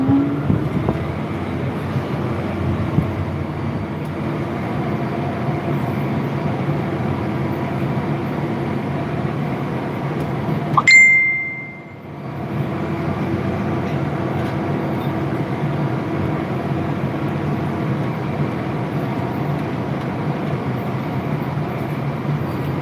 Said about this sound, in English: now I'm just glad we're turbo tilling and saving some fuel